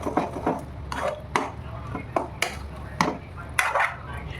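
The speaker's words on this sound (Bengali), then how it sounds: "নারকেলটা ভেজে এখন তালটা দিয়ে দিচ্ছে" Palm fruit pulp is stirred into grated coconut frying in a pan, with a spatula knocking and scraping in a steady rhythm of sharp clicks. Faint voices carry on in the background.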